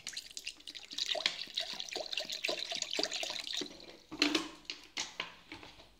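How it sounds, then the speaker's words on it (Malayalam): Cold water pours into a mixer jar of curd while making spiced buttermilk (sambharam), a bright splashing trickle with drips that pauses briefly, then resumes with a few louder splashes. "ഇനി നമുക്ക് ആവശ്യത്തിന് തണുത്ത വെള്ളം ഒഴിച്ചു കൊടുക്കാം."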